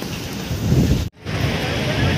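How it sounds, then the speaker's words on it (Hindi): Floodwater from the swollen Kharun river rushes past near a bridge at Mahadev Ghat in Raipur, a loud, steady broadband roar that briefly drops out for a split second before resuming. "यहाँ पास देख सकते भाई बहुत ज़्यादा पानी चल रहा है वहाँ पास"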